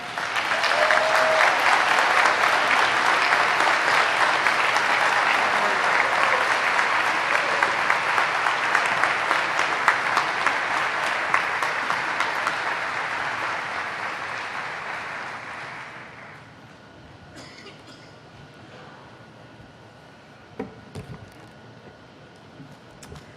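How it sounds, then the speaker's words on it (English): Sustained audience applause fills a 2021 spring honors ceremony for Order of the Gold and Order of the Purple candidates, loud and dense for about sixteen seconds before fading to scattered claps and room quiet. "I heard all of that applause"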